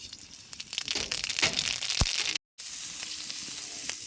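Mustard seeds spluttering in hot oil during Bengali cooking, with a steady crackling sizzle, scattered sharp pops and one brief gap of silence midway.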